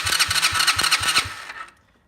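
A Chinese quad ATV engine cranked over with its spark plug grounded, six rapid rhythmic chugging strokes from the starter, loud and close, before it winds down to silence without firing.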